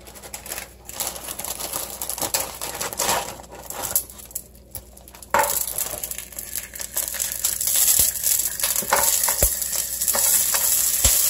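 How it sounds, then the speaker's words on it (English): Onions hit a hot skillet and crackle steadily, close up, and the frying gets louder and more continuous partway through as they settle into the pan. "So we're going to start with some onions."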